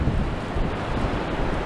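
Strong wind from Storm Dudley on the Blackpool seafront in February 2022 buffets the microphone in a loud, continuous low rumble with gusty surges and no voices.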